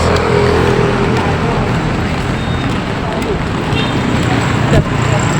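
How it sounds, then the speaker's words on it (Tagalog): Steady roar of passing cars on a highway, loud and continuous with low rumble, with a brief louder swell near the end as a vehicle goes by. "nandito tayo sa highway"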